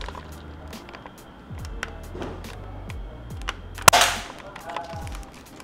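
Dcobra AR15 M416 toy gun firing several sharp cracking shots at a foam target, one louder snap standing out among spaced quieter clicks, close and without talk.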